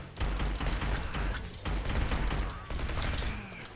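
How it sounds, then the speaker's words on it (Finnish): Pistol fire in Hitman: Blood Money, a dense burst of gunshots with mechanical clatter, loud and continuous with brief gaps, set against busy game noise. "Tää pistooli."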